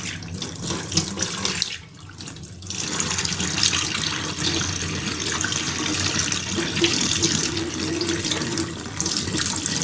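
Fermented pineapple liquid, a homemade degreasing cleaner, pours down a sink drain in a steady, close splashing rush of water that runs for about ten seconds with a brief dip near the start.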